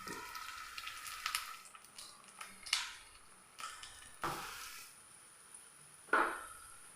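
Egg and potato snacks set one by one into shallow oil in a pan, each placement bringing a sharp sizzling burst that fades, about six spaced hits over a faint crackle, no speech.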